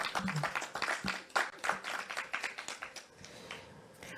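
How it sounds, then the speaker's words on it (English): An audience at a national senior citizens' awards ceremony breaks into scattered, lively applause, many hands clapping in a brisk patter that thins and tapers off toward the end. "A round of applause for the Exchange All-Age School."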